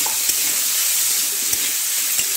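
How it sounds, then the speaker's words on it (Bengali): Banana stem frying in a pan as turmeric powder is stirred in, a constant bright sizzle with faint scrapes and taps from the spoon, close by and without talk. "এক টিস্পুন হলুদের গুঁড়ো দিচ্ছি, নেড়ে নিচ্ছি"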